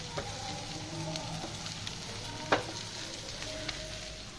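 Chicken liver frying in oil on a high gas flame, a low steady sizzle under occasional spoon scrapes and one sharper clack, fairly quiet and close.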